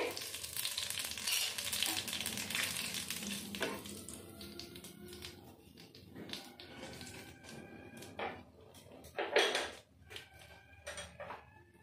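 Dry red chillies and nigella seeds sizzle in hot oil left from frying koi fish, a faint steady crackle broken by occasional clinks and scrapes of a utensil against the pan.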